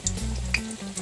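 Jamaican johnny cakes frying in hot oil, a brief close sizzle with a few crackling pops.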